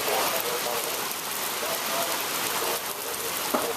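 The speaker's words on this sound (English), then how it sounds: "Motorists can expect great rain." Heavy rain pours steadily during a storm, a loud, dense wash of falling water across the whole moment with no letup, a brief sharper knock near the end.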